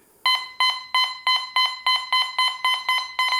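A metal detector gives its alert as a copper piece passes in front of it: a loud, steady series of about ten identical electronic beeps, evenly spaced and close by, with nothing else heard.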